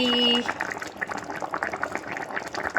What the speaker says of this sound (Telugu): వాటర్ యాడ్ చేసిన తర్వాత మళ్ళీ కొంచెం సేపు ఉడికించాలి